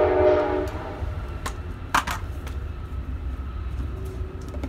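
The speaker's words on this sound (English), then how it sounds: "Now we got a train." A passing train sounds a loud, sustained horn blast that fades into the rumble of rail cars rolling by at moderate distance, heard near a workshop where a Volkswagen Beetle is being restored.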